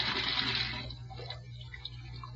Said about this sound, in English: I emptied the rest of the poison in the sink, and I let the water run for a minute.